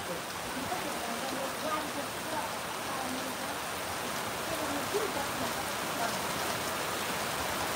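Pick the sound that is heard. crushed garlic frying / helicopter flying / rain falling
rain falling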